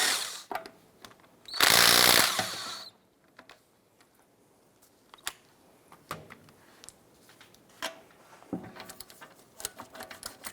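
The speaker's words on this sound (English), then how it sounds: "Using a 22mm socket, let's go ahead and remove these lug nuts." Car wheel lug nuts on a 2010–2016 Cadillac SRX being removed with a 22mm socket: one loud, close burst of an impact gun whirring for about a second, followed by quieter clinks and taps of the nuts and tools.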